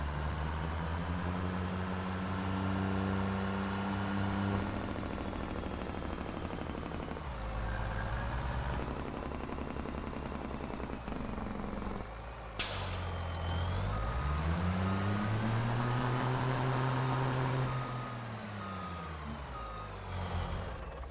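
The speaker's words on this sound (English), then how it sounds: "I love the sound of this truck." A service truck in a farming video game rumbles along with its engine running, sounding repeated reversing beeps and loud sharp hisses of air brakes, all close and prominent.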